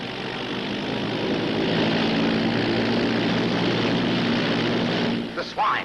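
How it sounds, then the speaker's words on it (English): A propeller pickup plane comes in for a landing, its engine drone steady and fairly loud throughout before a brief disturbance near the end. "That's a pickup plane."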